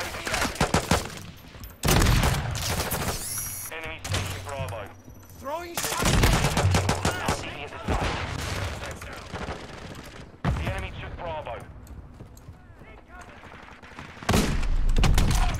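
Gunfire from the Modern Warfare 2 beta comes in loud close bursts and rapid automatic volleys that start and stop abruptly between stretches of quieter play, with someone talking in between.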